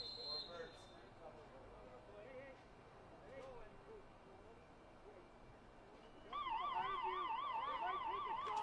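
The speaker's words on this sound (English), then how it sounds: "So there's the siren to signal the end of the first half." A siren at a high school football game sounds the end of the first half, starting partway through as a loud, steady wavering wail over crowd noise and an announcer's talk.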